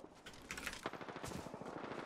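Rapid automatic gunfire in the Apex Legends video game, a dense burst of fast, sharp shots that keeps firing steadily for about two seconds, loud and close.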